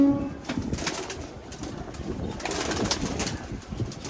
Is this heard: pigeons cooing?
yes